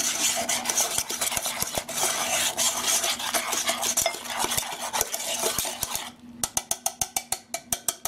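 Spoon stirring gluten-free, grain-free brownie batter in a bowl, a steady scraping swirl with a clatter of utensil on the bowl, ending in a run of sharp, evenly spaced taps.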